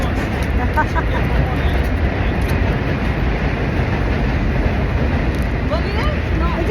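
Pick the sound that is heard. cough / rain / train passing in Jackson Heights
train passing in Jackson Heights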